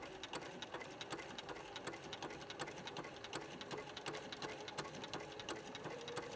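A sewing machine stitches appliqué along an orange peel quilt border with polyester thread, running as a steady, fairly quiet whir with rapid, even needle clicks throughout.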